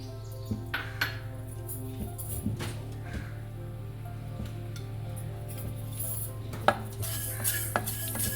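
Fenugreek seeds dry roasting in a pan on a stovetop, made as a first step for an instant tomato pickle, give faint rattling clinks and scraping taps over a steady low hum, with occasional sharper knocks of pan and utensil.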